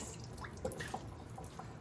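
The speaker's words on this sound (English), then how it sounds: "let it just sit in the colander here to drain while I make the sauce" Water drips from freshly rinsed seaweed left to drain in a colander in a home kitchen, giving soft, scattered drops over a faint, quiet background.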